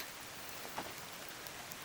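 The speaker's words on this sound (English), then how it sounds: "It's pouring rain." Heavy rain pouring outside a DIY Promaster van, a dense, steady hiss of drops drumming on surfaces throughout, with no talking.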